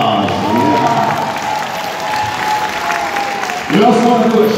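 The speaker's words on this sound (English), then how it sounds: "Ladies and gentlemen, let's give them a round of applause." Audience applause at a graduation ceremony for a training center, steady dense clapping throughout with cheering and whoops swelling louder near the end, voices mixed in.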